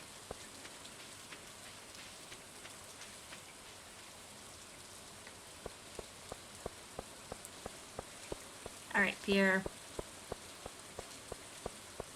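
Steady rain falls in the Stardew Valley Expanded farming game, a continuous soft patter with scattered droplet ticks throughout, and a voice speaks briefly near the end.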